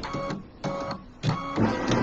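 A quilting machine stitches across a quilt in short rhythmic bursts, a close mechanical whirring and clicking that starts and stops several times.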